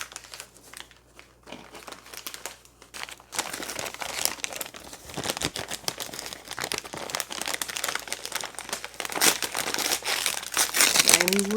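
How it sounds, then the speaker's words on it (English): Gift wrapping paper being ripped open by hand, a dense run of crinkling and tearing that grows louder after the first few seconds and continues to the end, with a voice briefly heard. "I'm ripping the paper this time."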